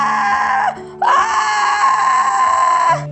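A girl screams as she falls into a gorge. Two long, loud, high wails are broken by a brief gap, and a low musical tone runs underneath.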